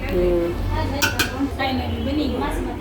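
Vegetable mixture for veg crispy being stirred in a pan, with soft scrapes and light metallic clinks of a utensil against cookware, steady and close, while a person talks over it.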